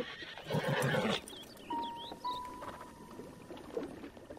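A horse in a video game gives a short, fairly close whinny, followed by quieter game ambience with faint tonal effects.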